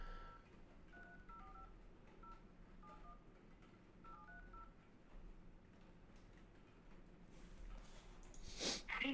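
A phone number is tapped out as a run of short, faint keypad tones in irregular clusters over a low hum, and a louder rustle follows at the end.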